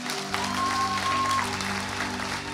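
A church congregation at a baptism service applauds again for a newly baptized man, steady clapping over a sustained low musical drone and hum, with a faint tone in the middle.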